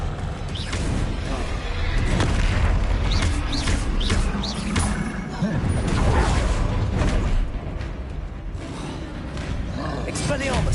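The Expelliarmus disarming spell cast in Hogwarts Legacy during a troll encounter, heavy magical impacts and crashing booms layered over a loud, busy game mix with rumbling effects and a voice shouting.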